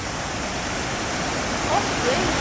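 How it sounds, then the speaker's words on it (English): A waterfall on the Great Ocean Road roars as a steady, loud, broadband rush of falling water, close and unbroken throughout, with no voices rising above it. "it's an impressive waterfall"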